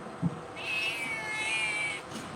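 A cat gives one long, drawn-out meow lasting over a second, close and clear over faint background noise, with a brief soft knock just before it.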